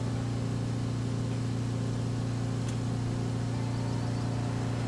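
A small truck in the road-building game RoadCraft rumbles past with a steady, droning engine hum that stays even and moderately loud throughout.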